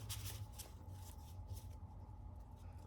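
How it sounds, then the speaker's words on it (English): Soft, steady rustling and riffling of tarot cards being shuffled, close by and quiet, with no talking. "it's just moving the cards around"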